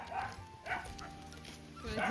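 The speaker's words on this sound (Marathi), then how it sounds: "कुत्रा समोरचा आला बघा तुमच्याकडे" A dog lets out a few short, sharp barks and yips in bursts near a home garden with chilli plants and curry leaves, while people talk close by.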